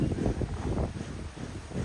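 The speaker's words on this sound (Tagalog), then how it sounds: "Ang lamig, ang hangin." Gusty wind buffets the microphone with a low, rumbling roar that rises and falls steadily throughout.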